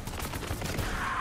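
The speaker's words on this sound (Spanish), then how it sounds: "Los disparos míos de escopeta nadie se los esquiva." Shotgun blasts from the video game Borderlands 3, a dense, loud burst of overlapping gunfire with a sustained rumble underneath, no talking.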